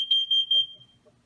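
Nest Protect smoke detector sounding its test alarm: a few loud, close electronic beeps in quick succession, trailing off into quiet room noise with faint movement.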